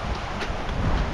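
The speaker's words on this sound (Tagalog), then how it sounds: "Malakas yung amihan ngayon eh" Strong northeast monsoon wind buffeting at a sea cave on the coast, a brief close rumbling gust of broadband noise with microphone buffeting, steady and loud throughout with no voices.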